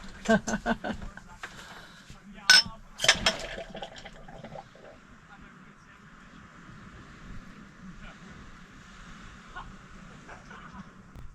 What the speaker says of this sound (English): Oh, it's a perfect pour.